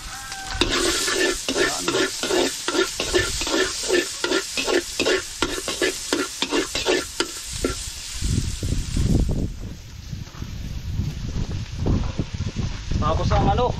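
Ingredients for coconut tilapia with tomatoes sizzle and get stirred in a frying pan at a farm home, with steady rhythmic scraping strokes close by and someone talking over the cooking.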